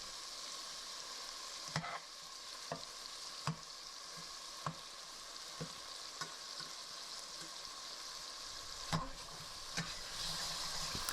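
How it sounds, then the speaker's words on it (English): Cooking tomatoes get smashed with a spatula in a pan over a soft, steady sizzle, with a spaced series of distinct taps and presses against the pan, close and quiet. "we'll go ahead and give them a helping hand and smash them up with a spatula"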